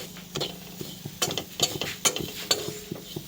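Grated coconut and sugar frying in a pan, close scraping stirs with soft sizzling and occasional utensil clinks in an irregular rhythm, fairly quiet.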